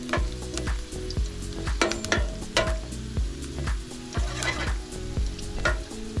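Hot seasoned oil with scallion sizzles steadily in a pan before fried snapper goes in, with regular scraping stir strokes close up and no talking.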